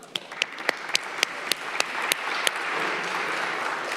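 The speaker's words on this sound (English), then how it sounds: "Let's give them a round of applause." Scattered individual claps open, then build into fuller audience applause at a city council meeting in Cleveland, moderately loud and steady by the end, with no talk over it.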